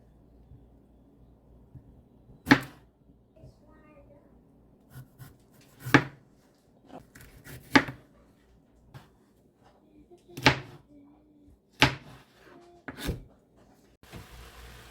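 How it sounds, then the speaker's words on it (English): Knife chopping jalapeños on a cutting board for ground beef tacos: sharp, separate chops spaced a second or two apart, close and fairly loud over a quiet room. "I'm going to slice up some jalapeños"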